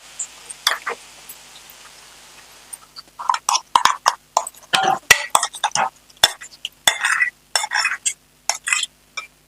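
Green chilli paste stirred into a pot for a ridge gourd buttermilk rasam, heard as a quick run of sharp, close clinks and scrapes of a spoon against metal after a quiet, hissy start.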